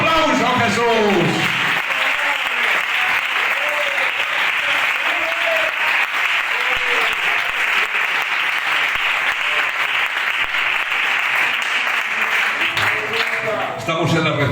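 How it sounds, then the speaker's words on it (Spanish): A church congregation bursts into sustained applause for Jesus, a dense, steady wash of clapping with a few voices rising through it, continuing loudly and evenly until it starts to fade near the end. "Dales aplauso a Jesús."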